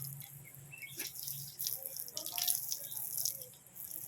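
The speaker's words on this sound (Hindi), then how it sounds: "ये पाइप जीविका लेके आई थी यहीं पे, तो शाम को इसी से पानी पड़ता है।" Water flows from a pipe in a village yard in the evening, used for bathing a buffalo, a soft steady splashing and trickle with faint outdoor ambience.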